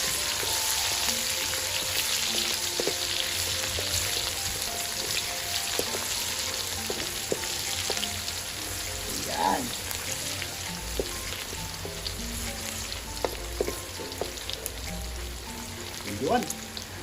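Sliced onions hit hot oil in a frying pan while cooking Ilocos-style miki noodles, producing a steady, close crackling sizzle with occasional stirring clinks and spatters throughout.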